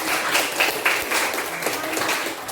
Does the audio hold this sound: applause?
yes